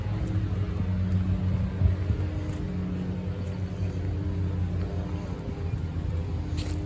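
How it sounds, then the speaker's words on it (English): A single car passes at a distance along a road, a low steady rumble rising slightly and fading, heard outdoors during a walk with no talking. "I guess I hear a car"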